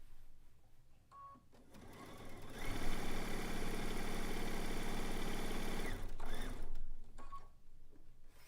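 A sewing machine runs steadily to the end of a quilt top seam on a zig zag quilt, with quiet handling noises before and after the loud continuous stitching.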